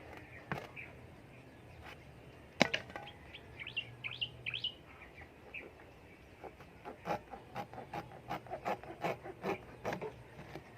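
A bolo knife cuts through the soft sidewall of an old tire, giving repeated short rasping, rubbing strokes that grow steadier and more rhythmic toward the end, with birds chirping faintly in the background.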